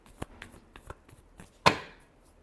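Tarot cards shuffled by hand: a few soft, scattered taps, then one sharp riffling snap that trails off quickly, close and fairly quiet.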